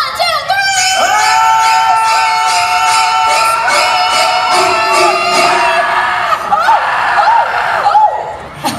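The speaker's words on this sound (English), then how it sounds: "Scream on 3, Cheyenne." A theme-park audience at a Universal Studios special effects show screams loudly together on cue, a dense sustained wall of shrieking voices that carries on for several seconds and then breaks into scattered yells and laughter.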